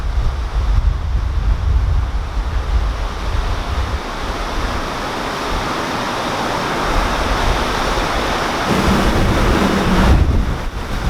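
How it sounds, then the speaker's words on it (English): Strong wind gusts across the Grand Union Canal near a lock, buffeting the microphone in a loud, steady roar that swells slightly near the end, with no talking. "Just look how windy it's getting."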